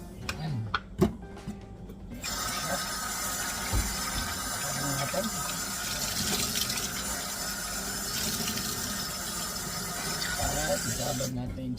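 Water pours into a container to soak cooking ingredients in a home kitchen, a steady broadband rush lasting several seconds after a few clinks, with quiet voices in the background.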